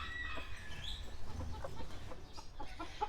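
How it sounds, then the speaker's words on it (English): Bantam hens sitting on their eggs cluck softly in a farmyard, a steady murmur of low, repeated clucks close by with no talking. "here we have some of our lovely bantam hens"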